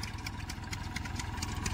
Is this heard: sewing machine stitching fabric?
no